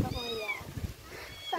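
A small cat meows several times in a row, close and fairly loud, with rising and falling cries over a steady background hum.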